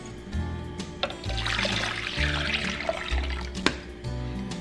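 Water pours from a container into a food processor holding butter for a strawberry tres leches cake batter, a continuous splashing trickle over a low mechanical hum, with small knocks and no talking.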